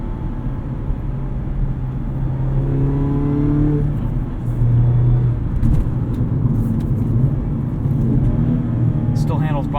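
A 2019 Mazda MX-5 Miata RF Grand Touring engine revs up toward redline from inside the cabin, a steady droning climb in pitch that eases and then rises again, with a voice speaking briefly over it.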